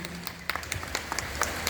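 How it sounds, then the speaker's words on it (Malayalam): Sparse clapping from a small audience applauding a quiz prize winner, a handful of separate hand claps scattered irregularly over a quiet background. "എല്ലാവരും ഒന്ന് കൈയടിച്ചേ"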